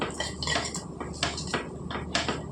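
Poha being stirred in a pan on a stove, with repeated scraping and clinking of a spoon against the metal in an uneven rhythm, close and fairly loud, no speech.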